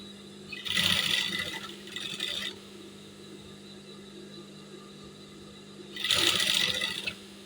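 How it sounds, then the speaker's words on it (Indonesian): Sewing machine stitching a women's uniform seam (KORPRI uniform), running in two bursts near the start and a third near the end, with a steady low hum between them and no talking. "Saat menjahit, kita tinggal ngikutin jahitan yang sudah ada di sini."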